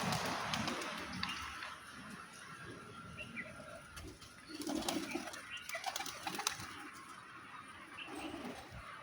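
Pigeons coo softly in a low, rolling murmur while being fed at a shrine, with scattered chirps, light rustling and distant ambient noise around them and no talk.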